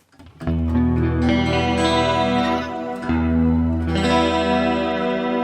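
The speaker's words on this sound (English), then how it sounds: "it's basically this block engaged, which is a shimmer reverb" Electric guitar chords through a Neural DSP Quad Cortex shimmer reverb ring out with lush, shimmering reverb adding bright, high octave-like sustain, strummed twice with a brief dip between.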